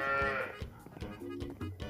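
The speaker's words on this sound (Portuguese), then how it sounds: "Eu com os terneiros tão berrando" Calves bawling, a loud drawn-out bovine cry at the start that fades into shorter, rougher calls over the next couple of seconds, with no talking.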